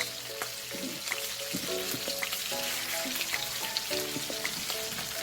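Pieces of golden pompano fish crackle in hot oil in a home-style fry, a loud, continuous sizzle with scattered spits and pops heard close up, without any voices.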